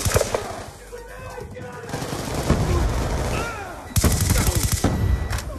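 Rapid automatic gunfire rattles through a Black Ops 2 multiplayer match in sustained bursts with brief pauses, loud and close throughout.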